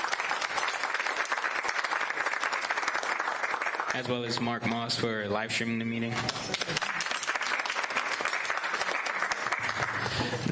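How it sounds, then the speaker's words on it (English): Audience applause fills a community board meeting hall at the East Midwood Jewish Center, steady broadband clapping throughout, with a voice talking over it in the middle. "Can we give Wayne Rosenfeld and the East Midwood Jewish Center a round of applause for hosting our meeting?"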